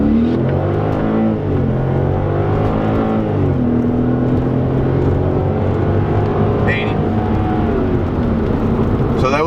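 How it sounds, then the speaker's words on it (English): A Genesis V8 accelerating hard from low speed in first gear with the exhaust cutouts closed, a loud continuous engine roar climbing in pitch through the revs, with a brief shift dip and a voice speaking over it. "I'm going to drop it down to first. Alright, and then I'm just going to gun it."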